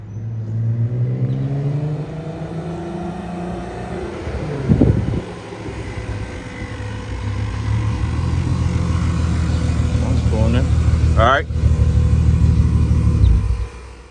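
A VR6-swapped Mk1 car engine rumbles and revs steadily, swelling and easing as it drives around a parking lot nearby, with a brief louder pass midway.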